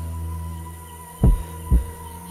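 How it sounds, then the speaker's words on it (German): Heartbeat sound effect from The Witcher video game: two heavy, low thumps about half a second apart, rising over a steady background hum with no speech. "Ich höre meinen Herzschlag viel zu deutlich."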